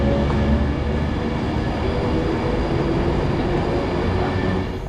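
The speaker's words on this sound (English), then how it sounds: "And here comes our next train," A Class 170 train about 25 years old rumbles loudly into the station, its steady roar and rolling wheels filling the air with a faint metallic squeal.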